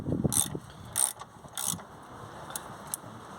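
A tool torquing bolts on a 2007 Vauxhall Astra H during an auxiliary belt replacement: several short, sharp metallic ratcheting clicks in quick bursts, close and fairly quiet.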